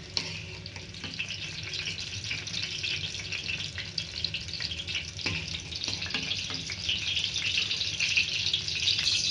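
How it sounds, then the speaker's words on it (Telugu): Bottle gourd pieces fry in hot oil for a masala curry, giving a steady, close crackling sizzle throughout with occasional soft scrapes and stirring knocks, growing slightly louder toward the end, with no voices. "ముక్కలను ఈ విధంగా వేపుకోవాలి కొంచెం మెత్తబడే వరకు వేపుకుంటే సరిపోతుంది"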